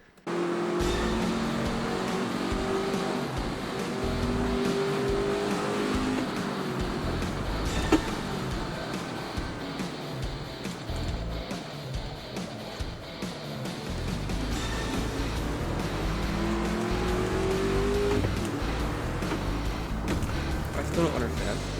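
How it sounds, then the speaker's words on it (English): The Ford GT40's engine roars steadily in Assetto Corsa, a dense racing drone with rising pitch sweeps as it revs through gears, loud and continuous throughout. "the amazing sound of the Ford GT40"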